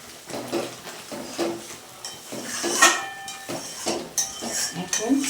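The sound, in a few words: stirring and mixing spice masala in a pan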